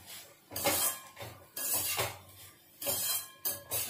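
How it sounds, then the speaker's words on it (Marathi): A utensil scrapes and clatters as mixed vegetables seasoned with black pepper are sautéed in a pan, coming in four rhythmic bursts of stirring separated by short pauses, close by with no voices. "व्यवस्थित परतून घ्यायचे सगळ्या भाज्या"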